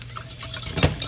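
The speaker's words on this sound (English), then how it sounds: "Whisk those eggs." Two eggs get whisked in a bowl for a soufflé, giving quick clinks and scrapes of a utensil against the dish with a louder knock near the end, set against a low background hum.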